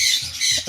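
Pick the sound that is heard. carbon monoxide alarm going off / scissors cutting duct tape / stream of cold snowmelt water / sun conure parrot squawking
sun conure parrot squawking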